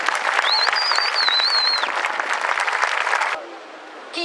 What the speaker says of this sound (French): Et là, on peut tous les applaudir de manière très forte.